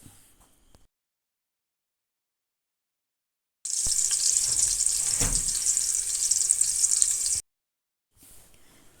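Onions frying in hot oil in a pan for a traditional rice-flour snack, a steady dense sizzle that starts abruptly and holds loud and even for several seconds before cutting off, with quiet gaps on either side.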